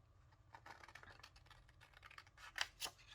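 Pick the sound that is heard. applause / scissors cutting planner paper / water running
scissors cutting planner paper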